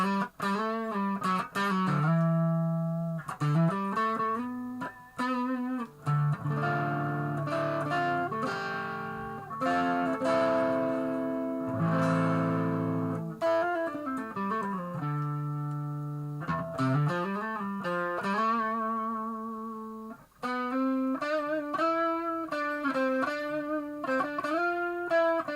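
A 1999 Godin LGSP90 electric guitar is played on its neck pickup with the tone rolled back, giving warm, rounded sustained notes and chords in a slow, melodic phrase, clean and close with no talking.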